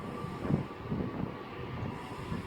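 A train pulls into platform 3 at Carlisle station on the West Coast Main Line, giving a steady low rumble with a faint high squeal above it and no voices.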